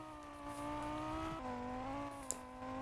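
A car in the game Vehicle Legends drives with a steady engine drone that drops in pitch briefly partway through, heard alone and fairly quiet.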